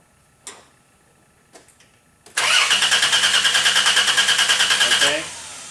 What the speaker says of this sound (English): and crank the engine